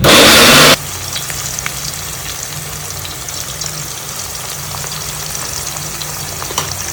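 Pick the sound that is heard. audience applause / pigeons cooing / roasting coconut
roasting coconut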